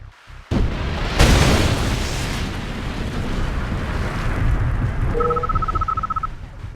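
A nuclear missile detonates in Red Alert 2: a sudden loud blast, then a heavier boom that swells into a long, roaring, rumbling decay, with a few electronic tones near the end.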